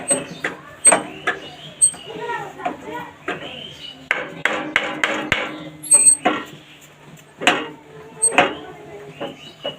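Sharp metallic taps of a hammer adjusting a new blade on a grass cutter machine, irregular clusters of close knocks and clinks with brief gaps between strikes.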